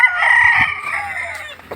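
A Black Butcher rooster crows once, loud and close, one long drawn-out call with a brief clucking tail as it trails off, heard alone.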